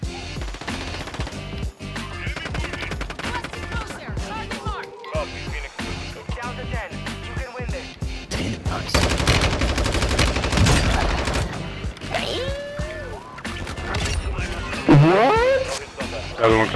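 Rapid automatic gunfire in a Call of Duty Modern Warfare II Warzone battle royale match on Vondel, loud bursts and sustained volleys with a spell of dense firing, under players talking.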